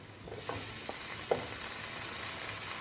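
Chopped tomato frying in a pan for a vegetable biryani gives a soft, steady sizzle with a few faint stirring scrapes, heard fairly quietly and with no talk.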